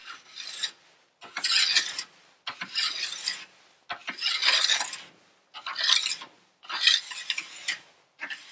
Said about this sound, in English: The sound here is the file running over a section of edge that has more base bevel than the file is trying to put on.